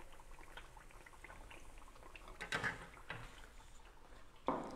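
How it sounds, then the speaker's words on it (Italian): Food fries in a pan in a home kitchen, a faint continuous sizzle and bubbling with a few louder crackles and pops, heard alone without talk. "Io ancora continuerò a friggere qua."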